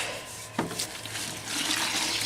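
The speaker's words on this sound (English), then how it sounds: "add a little water" Water is poured into Portland cement being mixed as a bonding agent for foundation repair, giving a soft, steady splashing trickle with a brief louder splash near the start.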